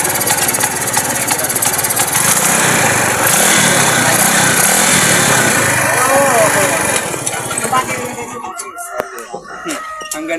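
A Barako 2 motorcycle engine idles loudly and misfires unevenly, sputtering in rough bursts, then cuts out near the end. Scattered clatter follows in the quieter stretch.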